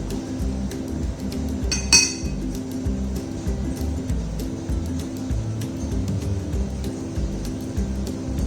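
Isopropanol and glycerol are mixed in a glass container: one clear glass clink stands out early over a low, steady background hum, with no voices.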